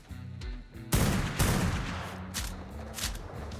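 Gunfire in the survival game Ark Survival Evolved, a sudden loud burst of rapid overlapping shots that keeps rattling on with further sharp cracks, dense and continuous after a brief quieter moment at the start.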